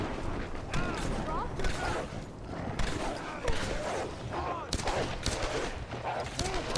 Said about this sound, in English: Dual wielding pistols.